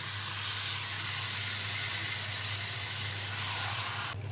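A whole lote fish sizzles in oil in a kadai with chilli powder, turmeric, garam masala and cumin, a dense, continuous hiss with a low steady hum beneath, cutting off abruptly near the end.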